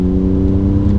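Alfa Romeo Giulia Quadrifoglio GTAm engine pulling hard under acceleration, a loud, steady, close droning roar with strong low harmonics throughout the moment, no talking.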